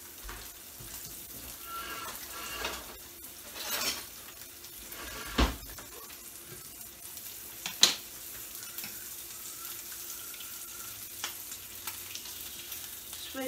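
Bacon strips sizzle steadily in a frying pan, a close, even crackle broken by a few sharp clinks of a utensil against the pan, with no voices.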